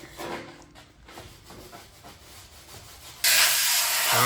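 Compressed air blasting debris off a freshly welded, rusted Toyota frame: after a stretch of quiet shop scraping and rubbing, a sudden loud, steady hiss of air starts and continues to the end.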